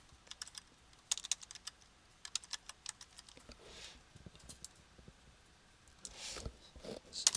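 Typing on a computer keyboard, with irregular bursts of quiet close key clicks and a few firmer key presses, growing slightly busier toward the end, with no talk.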